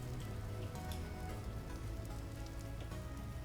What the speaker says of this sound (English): Straight back into the rain?